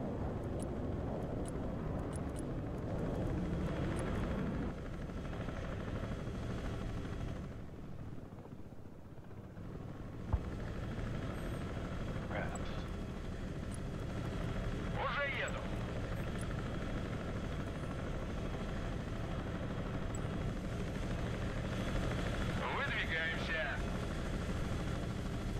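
Helicopter in the video game Broken Arrow, a steady droning rotor and engine rumble running throughout under continuous game sounds, with someone talking over it.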